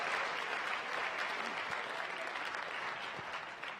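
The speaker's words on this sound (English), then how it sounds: "Let's give a round of applause for all our artists who have performed here today" Sustained applause from an audience at a city State of the City address, a dense patter of clapping hands that carries evenly throughout and tapers slightly at the end.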